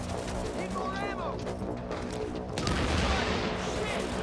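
Bursts of rapid turret gunfire and impacts from the video game Tom Clancy's The Division clatter in dense volleys. The shots swell louder toward the end, with voices faintly present underneath.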